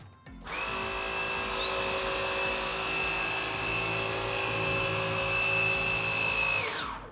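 Cecotec Conga Rockstar 2500 robot vacuum with its brush spinning, a steady loud whirring motor whine held for several seconds before cutting off, with no voices.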